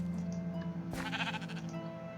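A sheep in Minecraft Sky Factory gives one loud, close bleat over low ambient game music, no talking.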